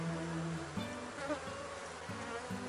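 Honey bees buzzing around an open beehive during an inspection, a faint, close, wavering drone with individual wingbeat tones rising and falling.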